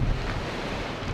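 Typhoon wind during a Signal No. 8 storm in Hong Kong blasts across the seashore. It makes a steady, loud, rumbling roar of wind buffeting the microphone, with no voices over it.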